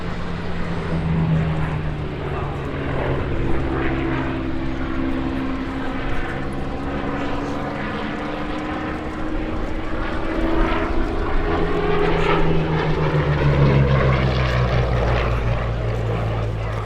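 Hawker Hurricane fighter with a Rolls-Royce engine flying at the Duxford Battle of Britain airshow, a steady loud propeller drone that swells and fades as it passes, with a voice talking over it.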